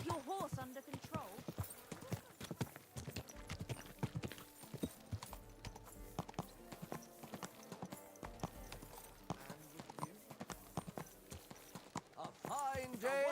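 Horse hooves clip-clop steadily on the ground in the medieval game Kingdom Come Deliverance II, a close rhythmic clatter with brief whinnies and game voices mixed in throughout.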